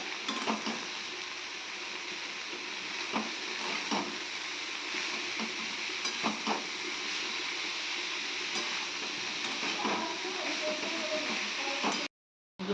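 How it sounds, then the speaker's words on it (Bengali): Red amaranth greens sizzle in hot oil with a steady hiss, punctuated by occasional clinks and stirring scrapes from a utensil in the pan. "আর এদিকে হচ্ছে আমার লাল শাকটা ভাজি।"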